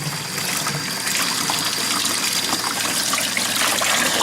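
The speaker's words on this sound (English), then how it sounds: "because I got the water going" Water runs steadily from a tap, a continuous rushing gush that stays even and close throughout.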